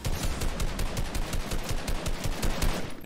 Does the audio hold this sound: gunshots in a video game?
yes